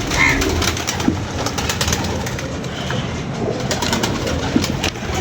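Several pigeons coo continuously in a rooftop loft kept by a fancier, a dense low murmuring chorus held at steady moderate loudness with no talking.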